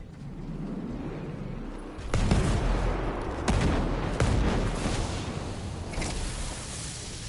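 Mortar fire in the video game Ghost Recon Breakpoint: heavy booming impacts roll in one after another over a continuous low rumble, loud and dense, with sharper blasts standing out every second or so.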